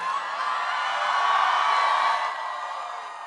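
Crowd cheering at a political rally at Sarah Lawrence College in New York, a dense sustained roar of shouts and whoops that swells and then eases off, with no speech over it.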